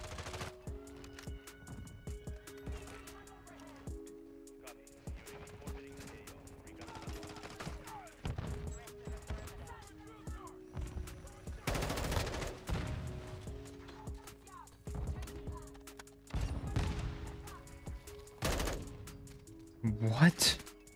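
Gunfire in Modern Warfare 2 with an M4 rifle, repeated bursts and single shots through the match amid game sounds, with a player talking over it.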